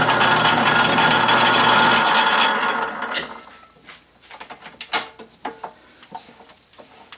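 An 8-32 die held in a lathe tailstock cuts threads, first as a steady loud grinding whir of the running lathe, then giving way to scattered clicks and metallic knocks.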